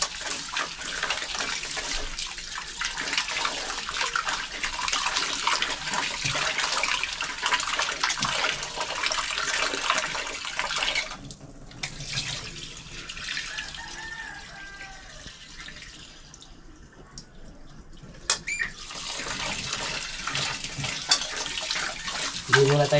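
Running water splashes steadily while rice is washed under a tap, a continuous close hiss that eases partway through, with some faint background sounds.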